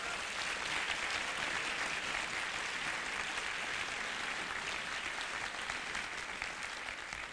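Sustained audience applause for young string players at a music program concert, a dense, even wash of many hands clapping that holds steady throughout without a break.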